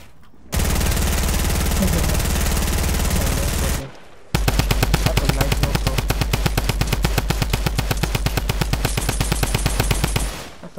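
Video game no-scope shooting: a long loud burst of rapid-fire gunshots, a brief pause, then a second sustained volley of evenly spaced shots, close and dominant.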